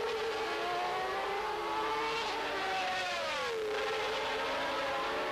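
1992 Formula One cars racing as Riccardo Patrese chases Gerhard Berger's McLaren, loud high-revving engines wailing continuously with a rising and falling pitch as the cars pass close by.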